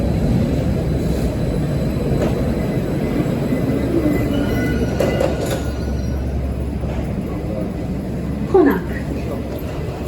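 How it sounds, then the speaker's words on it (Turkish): A steady low rumble and rattle from inside a moving metro train carriage runs throughout, with a brief louder clatter near the end and voices murmuring under it. "Metronun içinde video çekiyorum."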